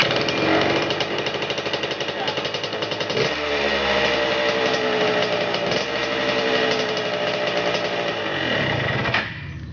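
A Suzuki TS 125 motorcycle, fitted with an aftermarket electric starter, runs with a loud, rapid, buzzing two-stroke engine note close by, the pitch shifting through revs before dropping away at the end.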